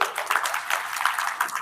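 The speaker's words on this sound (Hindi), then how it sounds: "ताली तो बजाओ।" A seated audience at a spiritual talk claps in a brief, busy patter of many hands, fairly close and loud, with no voice over it.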